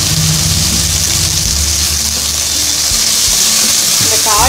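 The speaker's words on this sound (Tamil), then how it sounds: "அப்படியே போட்டு நம்ம வதக்க வேண்டியது தான்" Tomatoes and chopped vegetables sizzle steadily in a hot pan while a lunch-box vegetable pulao is cooked, giving a continuous frying hiss with a voice speaking over it.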